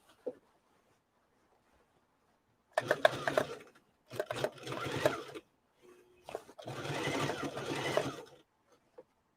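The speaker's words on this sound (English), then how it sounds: "I was not sewing both sides" A sewing machine stitches through heavy denim in three separate bursts of a few seconds each, the middle one shorter, with quiet pauses between runs and no talking.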